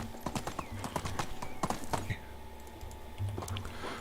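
A horse's hooves clip-clop at a steady trot in the Medieval Dynasty video game, with crisp, fairly close hoofbeats at first over a low ambient hum, then thinning toward the end.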